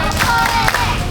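A group claps along in a clapping song at a scout camp opening ceremony, a dense, steady patter of many hands, close and loud, for a short moment.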